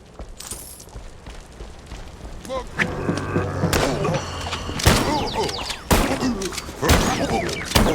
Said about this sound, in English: was that gunfire just now?